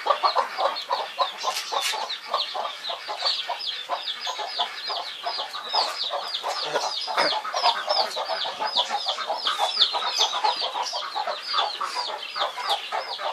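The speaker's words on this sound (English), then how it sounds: "Somehow all these chickens resemble vultures with the hairless neck." A flock of chickens with bare, featherless necks clucks and chatters continuously on a farm in the early morning, a dense, busy layer of overlapping calls with no speech.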